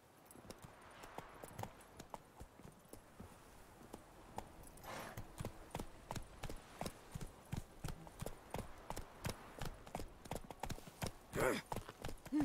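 Roach, Geralt's horse in The Witcher 3, trots with clear hoofbeats that grow louder and more regular, a quiet outdoor game ambience underneath.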